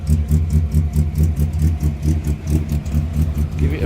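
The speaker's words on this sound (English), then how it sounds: "Hear the tone of the exhaust." Car engine idling right after its spark plugs were cleaned, a close steady rhythmic exhaust thrum with an even pulsing beat and light mechanical rattle, running alone without talk.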